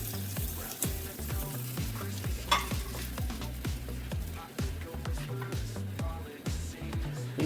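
Country fried eggs sizzle and crackle loudly in hot oil, with a steady fry, some clattering and a few sharp pops, heard up close with no talking.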